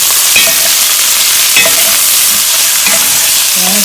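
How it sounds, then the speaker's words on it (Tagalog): Onions fry in oil in a pan for a Moroccan chicken stew while being stirred, a loud continuous sizzle broken by a few scraping stirs, with no talk. "haluin hanggang sa lumambot ang sibuyas"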